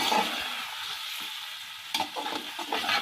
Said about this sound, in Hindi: अब इसमें गोश्त शामिल कर देंगे। इसको भी फ्राई करेंगे।